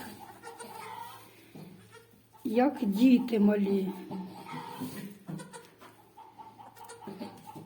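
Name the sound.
goat kids bleating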